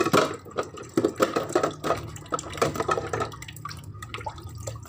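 Tap water runs and splashes over dishes being washed by hand, with irregular close splashing and clinks at moderate loudness and a faint steady hum underneath.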